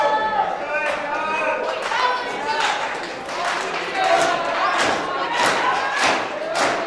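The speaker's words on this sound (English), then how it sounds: "Crowd clapping, encouraging both of these men to their feet." A crowd at a live professional wrestling event claps and cheers to urge two downed wrestlers to their feet, a steady wash of applause and rhythmic clapping mixed with scattered shouts, thuds and a commentator's voice over it.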